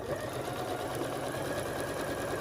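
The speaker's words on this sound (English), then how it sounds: "here we are at the sewing machine" A sewing machine stitches a quilted zipper pouch at a quarter-inch seam, its steady, close mechanical whir running unbroken without talk.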